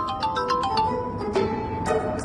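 A phone's ringtone plays a bright, repeating electronic melody of short tones over a low background hum, fairly quiet, with no one speaking.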